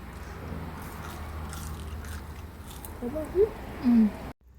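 Someone bites into crispy homemade french fries, heard as soft crunching and chewing close up under steady background noise, with a voice speaking near the end.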